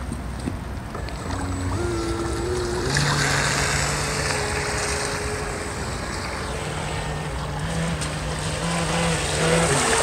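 A small 3D-printed radio-controlled jet boat runs steadily on the water, its motor giving a continuous whine with shifting tonal pitches over a constant wash of spray, with no voices.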